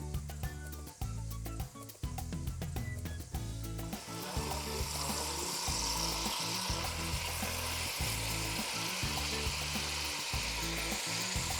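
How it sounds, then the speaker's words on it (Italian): Drained vegetables and aromatics hit a hot pan of meat and drippings for Barolo-braised beef, starting with scattered crackles and settling into a steady, loud sizzle with a few stirring clatters. "posso aggiungere le verdure e gli aromi scolati"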